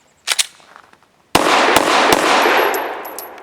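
Gunfire from a Full Conceal M3D folding pistol shooting Speer Gold Dot 115 grain hollow point rounds: a couple of sharp reports, then a rapid string of loud shots with echoing reverberation and clinking brass.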